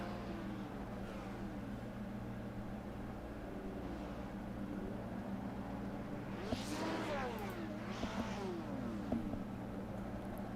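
Lotus 79 race cars in a racing video game idle and rev while gridding up at the Indianapolis Motor Speedway road course, a steady engine hum broken by several sweeping revs that grow louder near the end.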